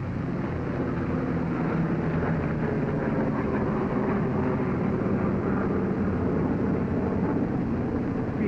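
World War II fighter airplane takes off with a steady, loud engine roar that holds constant throughout with no talking.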